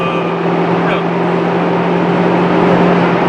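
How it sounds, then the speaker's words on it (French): Inside a Honda Civic Type R driving at high speed on the autobahn, a constant loud roar of engine and road noise holds steady with a low hum throughout. "nous sommes à bord d'une Honda Civic Type R"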